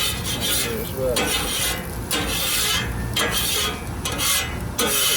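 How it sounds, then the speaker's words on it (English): A metal spatula scrapes leftover egg across a flat hibachi griddle, a harsh, continuous rasping scrape in long back-and-forth strokes, loud and close, with no talking. "And then I just want to scrape up that excess."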